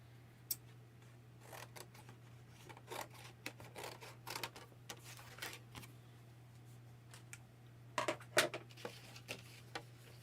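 Scissors snip a paper scrap in a series of quiet, scattered cuts over a low steady hum, with a brief cluster of sharper snips toward the end.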